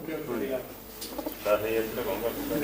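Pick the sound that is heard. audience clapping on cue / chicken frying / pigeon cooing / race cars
pigeon cooing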